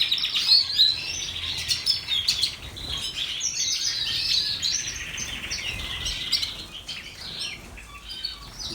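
Canaries fed a red-factor colouring food chirp and tweet continuously in a dense, bright chorus, with overlapping calls from several birds close by and no voices.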